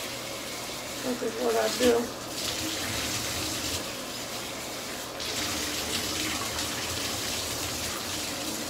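Running water rinses a bathroom fixture during cleaning, a continuous close gush with a person speaking briefly over it.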